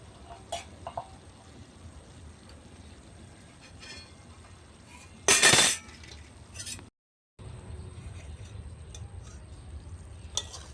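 Cooked potato, bori and yard-long bean curry is poured out of a pot over a clay stove, with scattered clinks and scraping of a utensil, a loud burst of clatter, then a brief silence and soft stirring noise.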